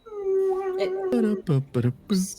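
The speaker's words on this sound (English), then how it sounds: "Sorry, my dog is doing weird stuff." A pet dog howls in a long, wavering, near and fairly loud cry, then breaks into several short whimpering yelps.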